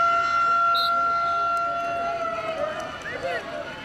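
A fire siren wails and sweeps steadily over crowd noise and chatter at a Syracuse vs Princeton quarterfinal, holding a long tone before rising and falling near the end.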